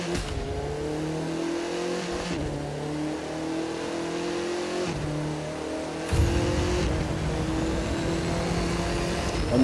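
An Audi TT RS in the racing game The Crew 2 accelerates hard, its engine a steady, close droning roar that climbs through several gear shifts with no talk.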